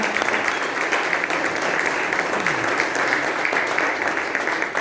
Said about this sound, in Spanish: Primero le damos un aplauso a la hermana.